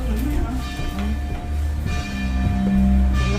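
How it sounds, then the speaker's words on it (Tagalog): A bell rings out at a botanical garden in New Zealand, with repeated tolling tones over outdoor background noise and no clear speech. "May bell."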